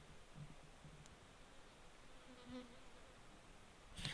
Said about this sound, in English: Flies buzzing in my ear.